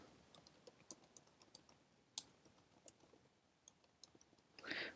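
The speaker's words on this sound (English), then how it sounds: "I'm going to type it in here" Keys clicking on a computer keyboard as an email address is typed in, a quiet, irregular patter of light taps with a slightly louder burst near the end.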